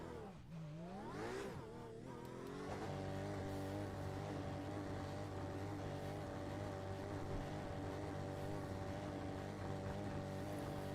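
A race car engine in the iRacing sim during the Road America 24 Hours revs up sharply, then settles into a loud, steady, buzzing drone as the car moves down pit lane.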